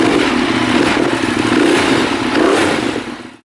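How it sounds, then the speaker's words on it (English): Ducati Monster 1200R with a loud Termignoni race exhaust: a dense, continuous roar that swells slightly and then cuts off, loud and close, with no talking. "1200R, resplendent in super loud Terminoni race pipes"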